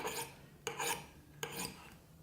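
Knife blade rubbed against a rough surface with no sharpening tools to raise a burr, three long rasping strokes in steady rhythm, close and fairly quiet with no talk.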